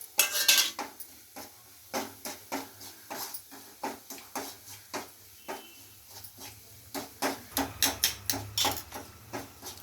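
A metal spoon scrapes and clanks against a pan while salted, spiced Maggi ingredients are stir-fried, with a steady run of sharp clinks and scrapes, close and fairly loud, with no talk.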